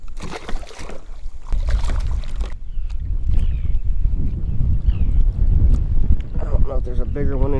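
Strong wind gusts buffet the microphone on a fishing boat out sight casting for redfish, loud rumbling bursts and flutter, with a voice briefly heard at the start.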